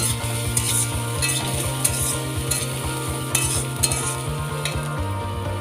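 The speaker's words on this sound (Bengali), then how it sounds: "রসুনগুলো ভালো করে আমি ভেজে নেব" Garlic paste frying with onions in a pan for an egg and spinach curry, a constant close sizzle under rhythmic scraping of a spatula, with regular clinks of metal against the pan.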